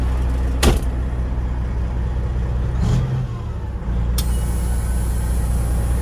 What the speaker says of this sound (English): I really like this truck.